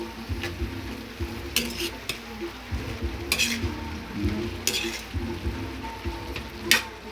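Mixed vegetables stir-fried in a pan, a steady sizzle under repeated stirring scrapes and occasional clinks of utensil against pan, close and continuous with no talking.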